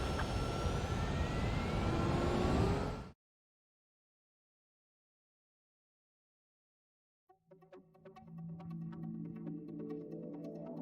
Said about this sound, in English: the runway's free. You have permission to take off.